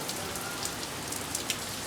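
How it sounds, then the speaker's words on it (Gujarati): Steady rain pouring down on surfaces in the morning, a dense, even hiss with faint scattered drip ticks, continuous and without voices. "કેટલો સરસ વરસાદ આવે છે"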